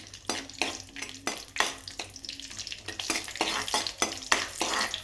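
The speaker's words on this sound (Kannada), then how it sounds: "ಚಿಕ್ಕದಾಗಿ ಕಟ್ ಮಾಡಿರೋ ಗೋಡಂಬಿನ ಹುರ್ಕೊಳ್ಳೋಣ." Chopped cashews fry in a pan with repeated stirring scrapes over a steady sizzle, loud and close, with no talking.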